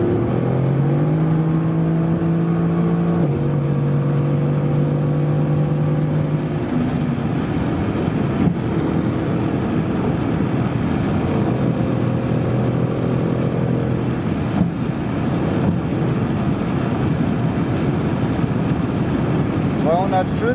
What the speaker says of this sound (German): Jetzt bei 4000 Umdrehungen, jetzt werden die Windgeräusche doch deutlich lauter von der Seite wieder.